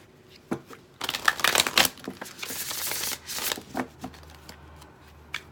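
Tarot cards being shuffled by hand in a bursty, crisp riffling and flicking, loudest in a dense run early on, then lighter intermittent shuffles, close and fairly quiet.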